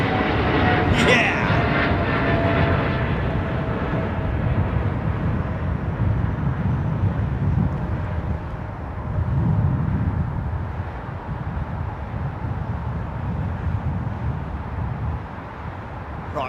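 American Airlines flight 81 departs at sunset, its engine rumble building into a steady low roar that swells and fades over the span while a person talks intermittently nearby.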